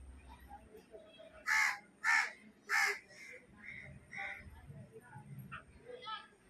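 Parent crows cawing in alarm near their young, three loud harsh caws close together followed by softer, scattered calls, with a person speaking in Tamil underneath.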